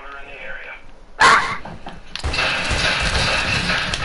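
A person imitates a dog barking with their voice, giving a sudden loud yelp-like bark after quieter mumbling, followed by noisy chatter and background sound from a Warzone gaming session.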